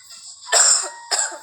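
Two short coughs from one person close by, a longer rough burst followed by a briefer one after a pause.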